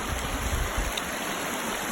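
A river flows steadily nearby at a prospecting spot, giving a constant broadband rushing wash with low rumbling at the start.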